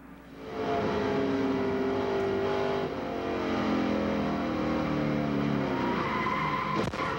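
NASCAR race cars at high speed at Daytona during the 1992 Daytona 500 roar loudly, with engines wailing and tires squealing as cars spin in a crash, ending in a sharp impact-like burst.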